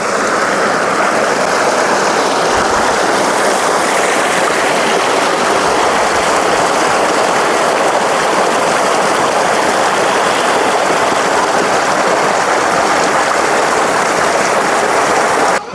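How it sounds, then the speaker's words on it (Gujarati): Water rushes steadily through an irrigation channel into a tobacco field, a constant, loud, unbroken flow close to the microphone, with no other sounds or voices. "ધોરિયામાં થઈને આ બાજુ પાણી જઈ રહ્યું છે."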